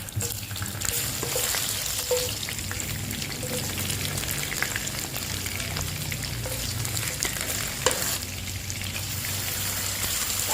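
Garlic stir-frying in a pan with pork liver for a holy basil stir-fry, a loud continuous close sizzle with faint stirring scrapes and occasional sharper clicks, no voices.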